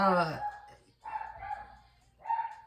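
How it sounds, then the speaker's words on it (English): A pet dog barks at home, a few sharp yips and barks in short bursts with pauses between, fairly close but not loud. "if my dog don't hush, I'm gonna have to pause it and go quiet her up"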